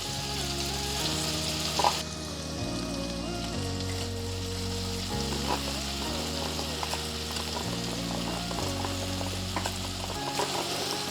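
Kara boondi batter drops into plenty of hot oil in a wide kadai, giving a steady, dense sizzle. The frying runs continuously beneath louder background music.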